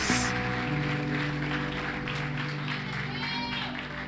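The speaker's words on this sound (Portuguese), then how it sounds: "Aplauda o Senhor aí, Senhor." Church congregation applauding during a service, continuous clapping spread across the room beneath a sustained keyboard chord and other voices, moderately loud and even.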